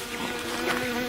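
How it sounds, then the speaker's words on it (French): Iridescent flies buzz over a body, a brief continuous droning hum that stays close and steady, with no other sound. "des mouches irisées bourdonnent et pondent sur lui"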